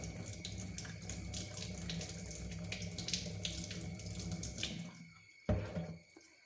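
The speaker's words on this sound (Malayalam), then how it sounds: "അതിൻ്റെ അകത്ത് വെള്ളവും എല്ലാം ഇങ്ങനെ ഊറ്റി കളഞ്ഞ്" Standing water is poured out of a bottle used to hold a money plant, a steady splashing stream that runs for about five seconds, then stops with a final small splash, with no talking.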